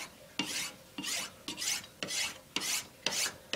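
Knife blade stropped on a soft material, giving rhythmic rasping strokes, about seven back-and-forth swipes in quick succession, close and clear with no talk.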